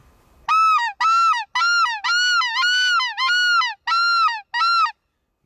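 A white-fronted goose call is imitated in a series of eight loud, nasal honks. The first are short and quick, the later ones are more drawn out, with brief gaps between them and nothing else audible.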